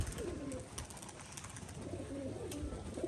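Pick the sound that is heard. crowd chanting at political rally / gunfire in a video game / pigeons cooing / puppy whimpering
pigeons cooing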